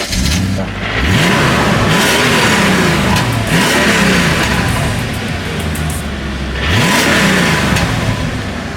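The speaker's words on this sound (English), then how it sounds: "all you're gonna hear is engine noise." A BMW E34 engine revs repeatedly with a loud, throaty X-pipe exhaust, pitch climbing and falling in several surges over steady rumbling.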